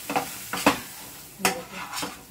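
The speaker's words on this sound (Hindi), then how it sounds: "इसको मैं अच्छे से फ्राई कर लूँगी बेसन को" Two spoons of gram flour (besan) roasting in a pan, stirred in several distinct scraping strokes of a spatula with a soft sizzle in between, close and fairly quiet.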